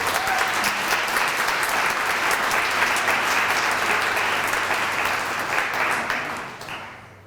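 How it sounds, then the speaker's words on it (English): Audience applause at a downtown association's annual meeting, a sustained burst of many hands clapping in a hall that carries on for several seconds before tapering off. "Chief Stewart's time was partly taken up by Tom Stanton's applause"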